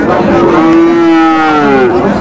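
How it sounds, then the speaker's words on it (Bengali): A Sahiwal bull at a cattle market in Kushtia lets out one long, loud, close moo that holds steady and rises slightly at the end, with no talking over it. "শাহিওয়ালের ষাঁড়"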